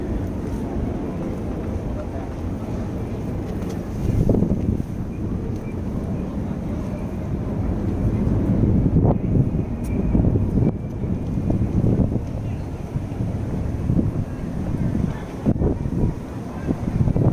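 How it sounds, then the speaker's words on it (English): Steady wind rumbles and buffets the microphone throughout on 14th Street in New York City, with low gusty swells and traffic-like noise underneath. "It's been pretty windy."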